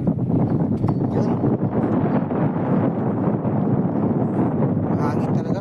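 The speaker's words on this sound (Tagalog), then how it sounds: "Mahangin talaga." Strong wind at sea during a fishing trip, a loud continuous roar buffeting the microphone throughout with no pauses.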